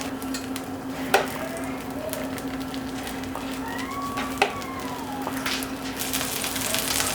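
Minced meat burger patties sizzle in a buttered pan, a steady broadband frying hiss with a few sharp clicks of a utensil and faint background whistles, no talking.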